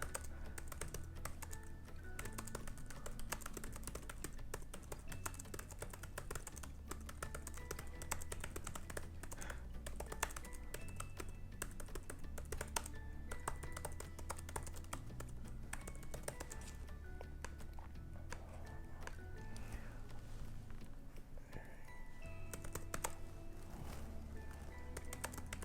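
Steady, continuous typing on a computer keyboard, with dense rapid key clicks and occasional brief pauses, close and clear throughout with no talking.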